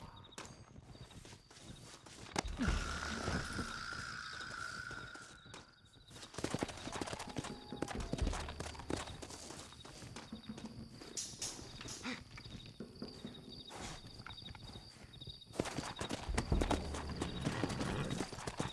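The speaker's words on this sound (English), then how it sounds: "Looks like Carlos left us some horses." Horse hooves clip-clop steadily at a walking pace in Red Dead Redemption 2, with a busy, layered game soundscape of rumbling ambience and occasional thuds around them.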